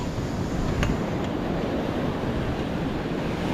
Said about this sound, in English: I see waves breaking farther out than usual too. The surf here is quite high